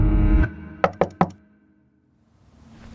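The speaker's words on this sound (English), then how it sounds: "What if Redmond didn't accidentally knock on the wrong door" Three sharp knocks on a door land in quick succession, crisp and close, after a low rumbling sound fades away, followed by near silence.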